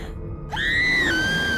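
A woman's single long, high scream in the video game What Remains of Edith Finch as she is killed, rising sharply after a brief silence and holding steady to the end.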